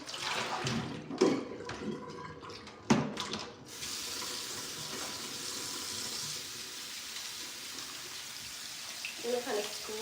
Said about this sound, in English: I'm gonna kind of scrub them.